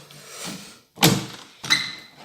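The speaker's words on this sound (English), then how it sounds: "I want a shot of me opening the door." A patio door is opened with a soft rattle, then two sharp sliding thunks close by, each a brief knock that trails off quickly.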